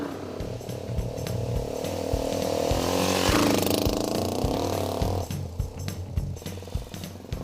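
A Mash 400 Scrambler single-cylinder motorcycle engine putters and pops in irregular bursts, rising to a louder rev before settling back to an uneven, crackling idle.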